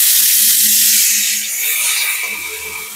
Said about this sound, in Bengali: পেঁয়াজ কুচিগুলো খুব ভালো করে একটু ভাজা ভাজা করে নেব।